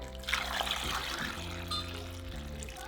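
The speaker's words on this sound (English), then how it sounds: "We're going to cover them with water." Water pours into a large pot holding tomatoes and serrano chiles, a steady close trickle and splash running for about three seconds with no talk.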